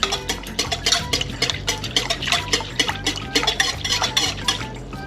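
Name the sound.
mixing powder into liquid to dissolve it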